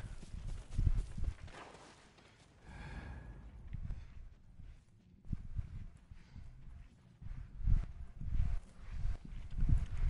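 Hooves clip-clop from a horse in the video game Ghost of Tsushima. The footfalls are irregular, close and moderately faint, mixed with a breathy snort.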